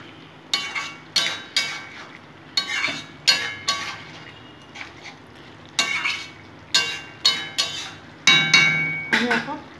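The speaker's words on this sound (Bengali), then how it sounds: "ভাজা আলু দিয়ে ভালো করে একটু নাড়ি চাড়িয়ে নেব।" A spatula scrapes and clatters in a pan as fried potatoes are stirred into chickpea ghugni, repeated metallic stirring strokes in bursts with brief pauses, close and fairly loud over a faint sizzle.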